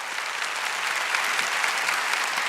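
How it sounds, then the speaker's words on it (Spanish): An audience at a church gathering applauds steadily, a dense, even wash of clapping from many people that carries through the whole moment without pause. "Dale un aplauso al maestro de maestros"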